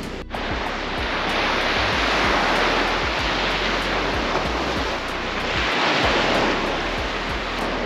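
Sea waves washing onto the shore in a steady broadband roar with gentle swells, continuous and fairly loud, wind buffeting the microphone, with no talking.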